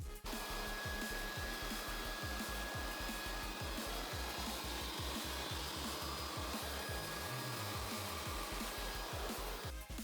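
A handheld air blower clears debris from a zero turn mower deck, a loud continuous close whine with a rapid pulsing flutter underneath, running without pause.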